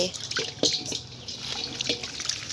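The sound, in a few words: tap water running into a pot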